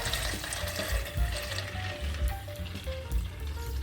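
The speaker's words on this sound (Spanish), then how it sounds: "Adicionamos agua" Water poured into a bowl of 250 grams of chickpeas set to soak for a Colombian chickpea and tripe dish: a steady, close splashing and gurgling stream that runs without pause and with no voices.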